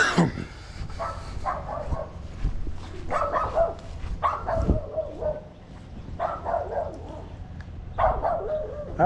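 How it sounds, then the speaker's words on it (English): Small dog barking in sharp repeated bursts, close and loud, with short whimpering yips between barks and brief voices nearby. "Why are little dogs the loudest?"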